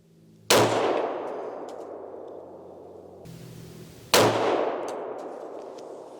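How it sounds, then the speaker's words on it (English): Two loud 300 Blackout rifle shots fired outdoors into plywood targets about 15 yards downrange, each a sharp crack followed by a long ringing decay, spaced a few seconds apart. "Two rounds in the plywood."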